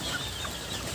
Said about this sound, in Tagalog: ang mga sisiw ko